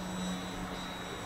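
A radio-controlled model airplane comes in to land, its small propeller engine giving a steady buzzing drone over a brief moment, with no talk.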